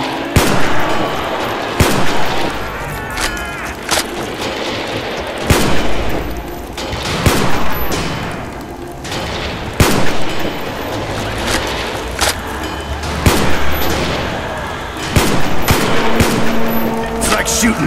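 Rapid, dense gunfire from shooting zombies in a Minecraft remake of the Verrückt map, with loud bursts and single shots overlapping continuously over a rumbling background.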